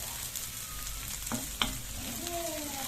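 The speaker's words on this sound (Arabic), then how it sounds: "خلاص يعني بتشوح تشويحه تمام" Taro sautéing in a pan gives a steady bright sizzle and frying hiss, with a few clinks of a utensil stirring near the middle, close and continuous with no talking.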